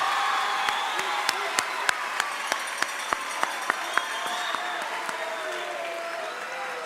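Applause from a graduation ceremony audience at a youth academy, filling the hall with steady clapping and a few sharper individual claps standing out, while a voice speaks faintly underneath.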